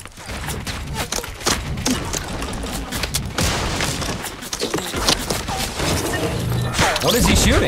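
Rapid gunfire in Fortnite Battle Royale, repeated sharp shots in bursts and strings throughout, loud and close, with building impacts and a player talking in between.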